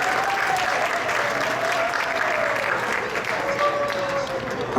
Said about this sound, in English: we'd like to invite Indresh Prabhu with a very nice round of applause